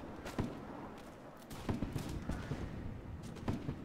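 Musket volley from line infantry in Mount & Blade: Warband, Napoleonic-era battle at Arnhem, heard as several separate sharp cracks and thuds spread over a few seconds amid a constant battlefield din.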